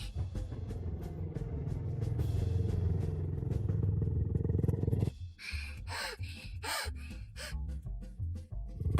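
A motorcycle's engine rumbles low and steady for several seconds, then cuts off abruptly, leaving scattered fainter sounds behind.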